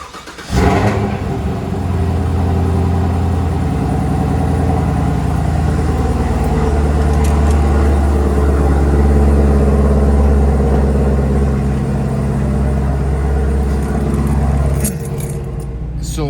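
A Camaro ZL1 fitted with a Roto Fab Big Gulp cold air intake fires up inside a garage and idles with a loud, deep, steady rumble, cutting off near the end.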